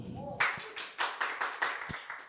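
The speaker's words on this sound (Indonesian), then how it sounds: "tepuk tangan buat Mas Ubed." A short burst of hand clapping from a few people at a stand-up comedy show, roughly seven distinct claps in a loose rhythm, fairly close.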